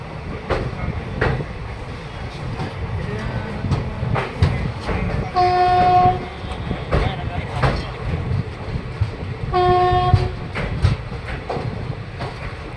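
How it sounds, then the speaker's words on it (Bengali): Train at Chapra Junction railway station, with rumbling wheels and rattling cars throughout and two long horn blasts partway through, while people talk nearby. "চাপড়া জাংশন। মিনির রেল দেখো না"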